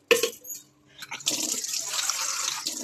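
Lentils are rinsed in water before going into a pressure cooker, with a sharp splash at the start, a brief pause, then continuous running, sloshing water close by.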